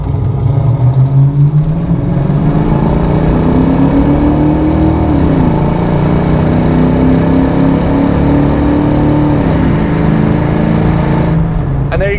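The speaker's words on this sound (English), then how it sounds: "We are warmed up, so we're gonna go ahead and get in the throttle some" A 1993 Ford Mustang LX hatch with a 5.0-liter V8 and automatic transmission pulls hard under throttle from inside the car, its engine note rising through gears in a loud, smooth sweep.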